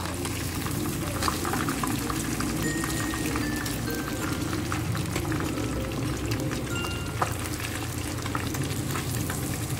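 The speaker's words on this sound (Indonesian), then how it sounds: "Dilanjut ya untuk goreng berikutnya." Tilapia fish fry in hot oil with a steady, dense sizzle that carries on evenly from start to finish, with no talk over it.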